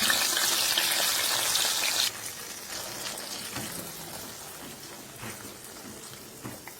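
Onion paste dropped into hot oil in a pan for chicken rezala, a loud hiss at first that drops to a steadier, softer sizzle and crackle afterward.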